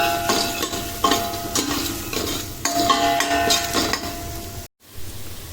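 A utensil stirs fennel powder into a Malabar-style kappa (tapioca) biryani mixture in a pan, making repeated rhythmic scraping and clinking strokes with faint frying in the background, followed by a short silence near the end.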